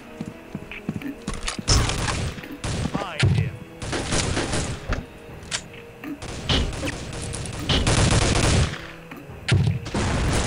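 Rapid bursts of gunfire from the first-person shooter Soldier of Fortune II, loud and close, with repeated volleys and thumps spread across the stretch and brief pauses between them.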